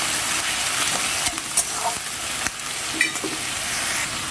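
Onion paste sizzling in hot oil with whole spices such as cumin, cardamom, cloves and cinnamon, a steady close frying hiss with occasional scraping stir sounds throughout.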